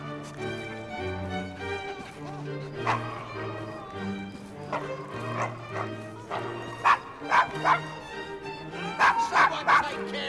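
A dog in the video game Assassin's Creed Syndicate barks and yips in repeated bursts over background music, the barks growing louder toward the end.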